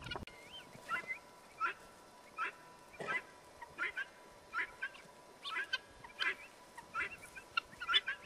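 A flock of guinea fowl calls in repeated harsh, rhythmic cackling bursts, fairly faint and spread around, while herding dogs move among the birds outdoors.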